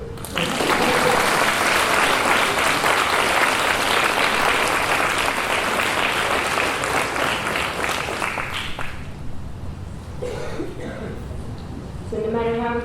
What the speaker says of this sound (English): we should all applaud for Heather